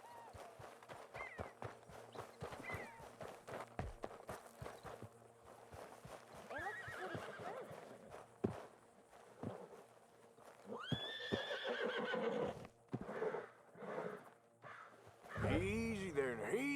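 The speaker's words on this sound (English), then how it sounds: "you couldn't help me get my other horse back from over there" Horses in the Red Dead Redemption 2 video game whinny and neigh repeatedly, with clip-clopping hooves running throughout, fairly close and loud, beneath ongoing game chatter and talk.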